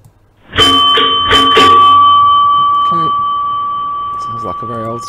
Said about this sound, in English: Okay, a bit of a doorbell.